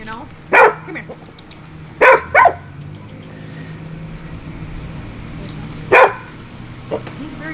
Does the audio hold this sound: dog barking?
yes